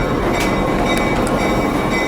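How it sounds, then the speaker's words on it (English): An NJ Transit commuter train heading to Teterboro rumbles along, heard from on board as a dense, steady roar of wheels and carriage noise with faint rhythmic clicks. "It's the train I filmed literally last week."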